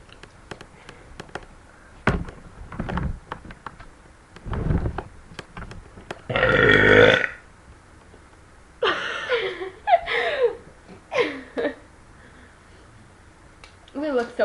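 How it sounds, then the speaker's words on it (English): Girls burping after drinking Coca-Cola, several loud, throaty belches of varying length, with laughter and chatter between them. "Doesn't it feel great when you burp?"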